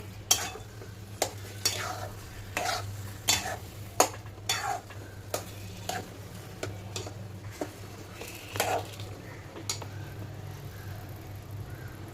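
Semolina sheera stirred in ghee in a pan, a repeated rhythm of scraping spatula strokes and clinks against the metal over a soft low sizzle, close and alone.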